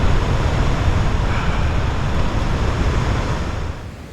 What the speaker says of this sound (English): The tent is really flapping about